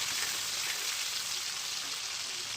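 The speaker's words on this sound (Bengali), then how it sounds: "টমেটোটা তেলের মধ্যে কিছুক্ষণ ভেজে নেব।" Tomatoes fry in hot mustard oil with fenugreek seeds, giving a steady, close, hissing sizzle throughout.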